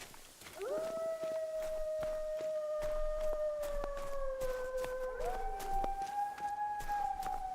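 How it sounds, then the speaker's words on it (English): Loud animal yowling in the hunting game theHunter: Call of the Wild, a long sustained howl that rises, holds steady and then shifts to a higher pitch, carrying on for several seconds with faint clicks underneath. "very loud yowling"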